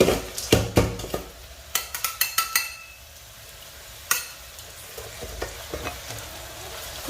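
Rice crackers frying one sheet at a time in hot oil, with a steady sizzle under sharp metallic clinks and scrapes of a utensil against the pan, close and fairly loud.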